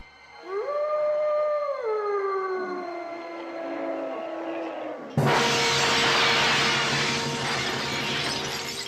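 Opening title sound for a 2004 werewolf film: a long wavering howl rises and slowly falls, then a sudden loud crash of breaking window glass cuts in and rings on with a bright, noisy wash.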